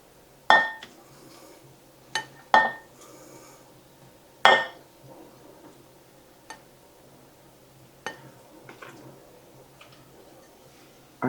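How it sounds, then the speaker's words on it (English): Cooked potatoes lifted out of a crock pot, giving several sharp clinks and clatters of utensils against the pot at irregular intervals, close by, with quiet pauses between. "I want to take the potatoes out because they are done."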